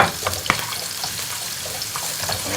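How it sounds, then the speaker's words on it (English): Chopped onions and aubergine fry in a pan with a steady close sizzle, broken by a few light clinks and stirring scrapes. "We're going to just fry this for a couple of minutes because the aubergine needs to fry as well"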